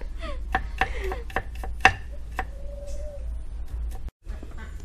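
Sharp, rapid knife taps on a cutting board while mincing garlic, irregular chopping strokes close by over a low steady hum, with a brief bird-like chirp.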